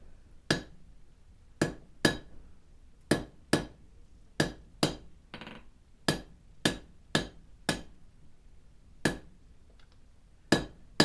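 Hot steel struck by a hammer to cut off the fish lip on a forged wrench, a series of sharp, ringing metallic blows in an uneven rhythm, about sixteen strikes heard close up, with brief pauses between.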